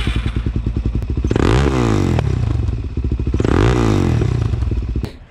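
A straight-piped DRZ400 supermoto with a muffler fitted revs loudly and close by, two long throttle blips rising and falling between a choppy, popping idle.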